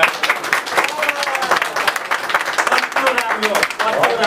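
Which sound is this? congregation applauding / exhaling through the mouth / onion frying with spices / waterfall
congregation applauding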